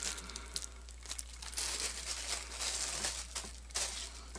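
A folding firefighter pocket knife is pulled from its plastic bag, making close, quiet crinkling and rustling that continues in irregular bursts for several seconds with no talking.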